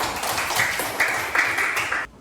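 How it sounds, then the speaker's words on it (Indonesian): Students in a classroom lesson on Quranic recitation clap together in a quick, rhythmic patter of hand claps, fairly close and steady for about two seconds before stopping abruptly. "Beri tepuk tangan untuk kalian."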